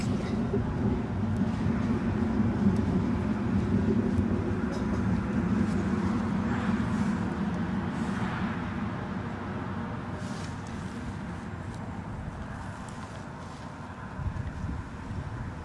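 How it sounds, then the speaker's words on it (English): An Embraer 145 jet takes off at Newcastle International airport in gusty conditions, a steady broad roar that slowly fades over time while wind buffets the microphone. "Embraer 145, never shabby when it comes to getting off the deck."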